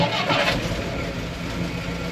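A 1962 Jeep FC 150 engine catches in cold weather and settles into a loud, close, rough running rumble that holds steady for a couple of seconds, with no talking.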